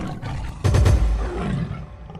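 A tiger in a cartoon Sundarbans jungle gives one loud, deep, growling roar that swells suddenly after a low rumble and trails off into a lower snarl, with no speech.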